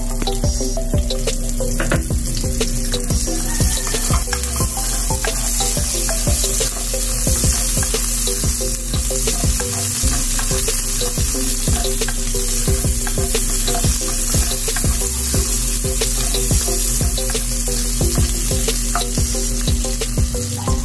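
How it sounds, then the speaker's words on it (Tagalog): Onions added to fried pork in a pan for Bicol Express, sizzling loudly and continuously at close range with frequent stirring scrapes and a low steady hum beneath, no voices. "Ito na guys, yung ating pork na na-fried para sa ating Bicol Express. Lagay na natin yung ating sibuyas."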